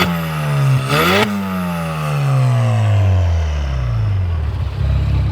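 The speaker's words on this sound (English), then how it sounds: "Rev it!" Dallara Stradale road car engine revs hard several times, pitch sweeping up and falling back in sharp blips, then a long descending wind-down, loud and close with no talk.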